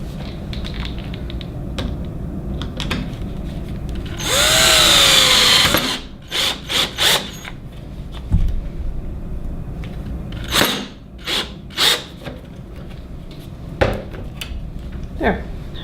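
A screw is driven into a PODD communication book, heard as a short loud burst of a power driver followed by scattered creaks, clicks and handling noises, close, over a quiet background.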